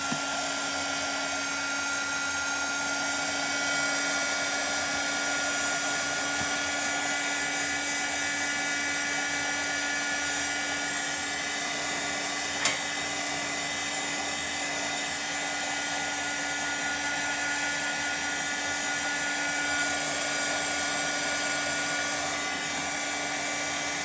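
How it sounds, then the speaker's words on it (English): A hair dryer blows steadily on wet paint on a painted door hanger, a close, constant whirring drone that holds unbroken throughout with no talking. "I really need to hit this with a dryer."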